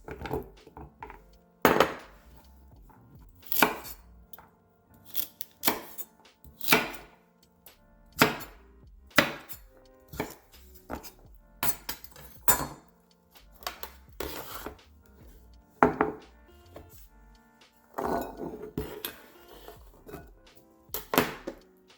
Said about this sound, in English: the first thing that we're going to do is to cut up our carrots